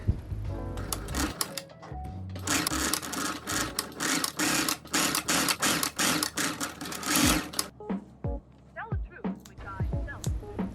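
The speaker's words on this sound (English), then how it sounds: "After pinning, let's sew." A sewing machine stitching jersey knit fabric for a dress runs in several fast whirring bursts separated by brief pauses, close and clear, and a voice speaks near the end.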